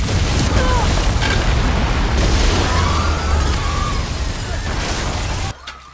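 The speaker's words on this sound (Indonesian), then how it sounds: "tapi bom itu meledak, menimbulkan kekacauan yang membuat orang-orang di sekitar sana panik." A loud, rumbling blast followed by roaring debris and crackling noise that cuts off abruptly at the end.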